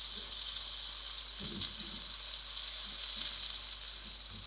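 Steady, bright sizzle of onions frying in hot oil, continuous and close, with a few soft scraping stirs partway through.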